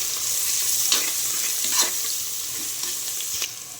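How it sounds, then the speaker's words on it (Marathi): Onion and ginger-garlic paste sizzling in hot oil in a pan for matar pulao, a steady close frying hiss broken by a few sharp scraping stirs of a spoon. "कांदा फ्राय झाल्यानंतर अद्रक लसूणची पेस्ट टाकली आपण।"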